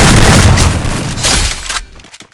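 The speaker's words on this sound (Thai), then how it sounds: "เดี๋ยวระเบิดเดี๋ยวระเบิดเดี๋ยวระเบิด" A loud explosion in a video game, a heavy booming blast with a long rumbling tail that fades out over about two seconds.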